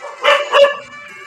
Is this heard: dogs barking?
yes